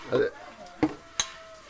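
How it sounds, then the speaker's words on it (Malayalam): Chicken curry with garam masala stirred in a pan, with a few distinct clinks and scrapes of a utensil against the metal, close and brief, amid quiet kitchen noise. "ഇനി നന്നായിട്ട് ഇളക്കിയെടുക്കണം അല്ലേ?"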